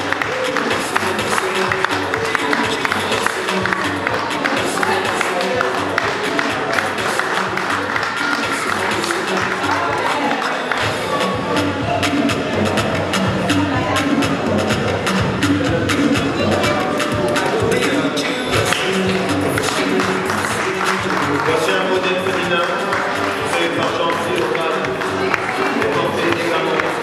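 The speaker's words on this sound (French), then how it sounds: "faites du bruit encore une fois. Applaudissez." Sustained applause and crowd noise from an audience at an African fashion show in Paris, loud and continuous throughout, with an announcer speaking over the clapping.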